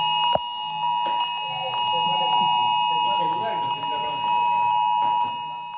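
Tone of the national public alert system test on mobile phones, Italy, steady high beeping tones sounding continuously over room noise and background chatter.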